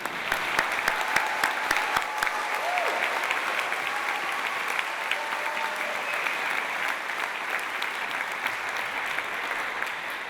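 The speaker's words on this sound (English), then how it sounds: "so I'm going to start and applaud" A commencement audience at a 2022 School of Public and International Affairs convocation claps steadily in a large hall, a dense, sustained wash of applause lasting about ten seconds with no voices over it.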